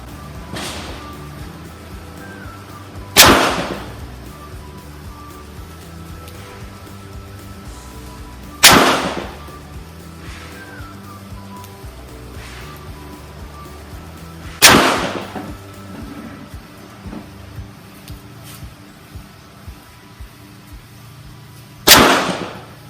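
Four sharp, loud shots from a Taurus TS9 pistol at a shooting range, each a single crack spaced several seconds apart with quiet room tone in between.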